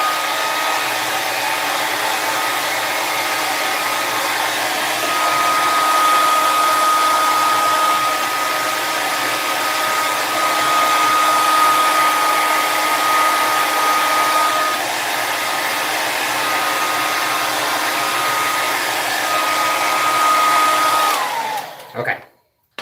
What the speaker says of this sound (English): I'm about to use a hairdryer, so bear with me for 2 seconds.